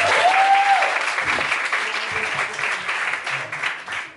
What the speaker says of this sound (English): So everyone give them a round of applause.